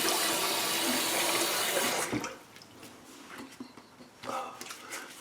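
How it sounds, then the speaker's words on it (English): A tap runs in a steady loud rush while someone rinses after a shave, then cuts off abruptly, leaving quieter splashing and dripping sounds with faint background voice. "let's do a quick rinse."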